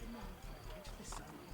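Hoofbeats of a horse in the video game Assassin's Creed Brotherhood, a rapid clip-clop patter under game sound and a speaking voice, moderately close.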